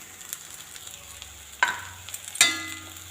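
Onions and mushrooms sauté in a pan with spice powders, giving a low steady sizzle broken by two sharp scraping clanks of a spoon against the pan.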